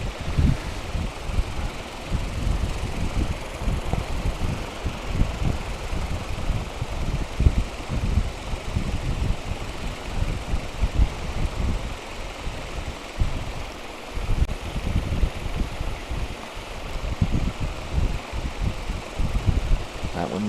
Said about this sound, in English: to help keep our equipment cool, we do have a fan or two going